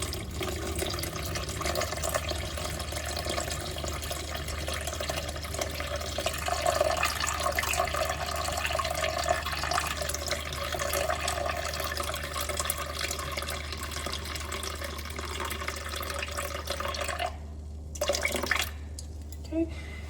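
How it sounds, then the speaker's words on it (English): Water pours steadily into sourdough dough in a bowl on a kitchen scale, a continuous trickling fill held for most of the stretch before it stops, with a few small clinks and handling sounds at the end. "I'm going to add 650 grams of water."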